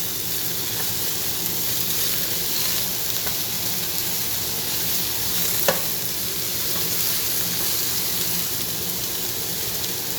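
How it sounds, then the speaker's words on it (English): Onions frying in a pan and being stirred, a loud continuous sizzle with occasional soft spatula scrapes and taps across the whole stretch, no talking. "you want to keep moving your onions around so it's getting translucent"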